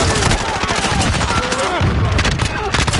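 Rapid video game gunfire crackles in a dense, continuous stream of shots, loud and close, with a player's voice talking over it.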